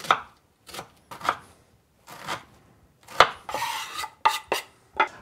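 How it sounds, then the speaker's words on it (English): Leftover cooked beans are chopped into very small pieces on a board for patties, with irregular bursts of sharp, close knife strokes separated by short pauses. "We first take leftovers of the beans and we mix them. Again, we have to cut it very small pieces."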